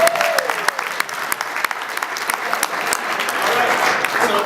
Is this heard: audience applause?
yes